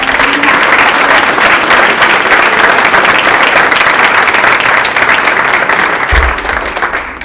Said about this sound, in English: let's give one more big round of applause for the inaugural project